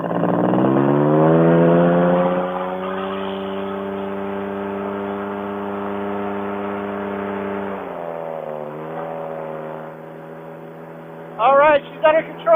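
A powered paraglider trike engine at full throttle during launch roars loudly as a steady, buzzing harmonic drone that eases slightly in pitch partway through, with brief voices cutting in at the end.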